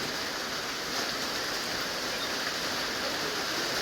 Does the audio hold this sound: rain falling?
yes